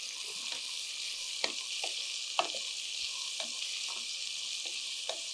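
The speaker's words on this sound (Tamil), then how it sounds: "ஜஸ்ட்டு ஒரு டென் டுவெண்ட்டி செகண்ட்ஸ் வதக்கிட்டு வெங்காயத்தை சேருங்க" Onions sautéing in hot oil, a steady close sizzle broken by repeated soft scrapes and knocks of a stirring spoon, with no talking.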